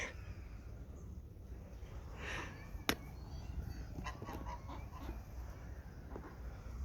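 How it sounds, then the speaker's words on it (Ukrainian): Greek geese honk a few times at moderate distance over a steady low rumble of outdoor background noise on Zakynthos. "Такі горделиві грецькі гусі."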